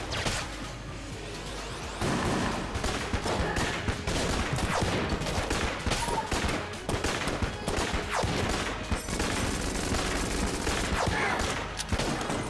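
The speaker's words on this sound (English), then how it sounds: "Just get rid of you with my standard gun." Rapid, sustained gunfire from the standard starter gun in the video game Enter the Gungeon, dense overlapping shots with game effects and whooshes, loud and continuous after a quieter opening two seconds.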